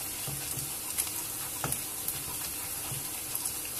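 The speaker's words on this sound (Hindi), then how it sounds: "अभी मैं थोड़ा सा और भूनूंगी और साथ साथ आपने ऐसे करते जाना है और भूनते जाना है मैशर से" Mashed potato for aloo cake halwa fries in a pan, a soft steady sizzle broken by light scraping and tapping as a masher stirs and presses it, fairly quiet and close.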